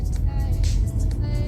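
An Audi A4 2.0T S Line turbo engine roars under acceleration from inside the car, a dense, loud, low rumble with broadband road and wind noise, continuous and close, with no talk.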